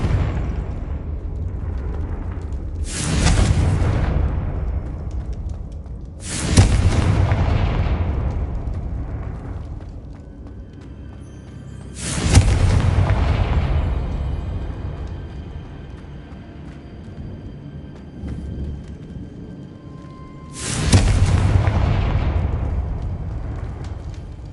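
Four loud Confringo fire-spell explosions in Hogwarts Legacy, spaced several seconds apart. Each booming blast rises sharply and fades into a long rumbling tail, with no talk over them.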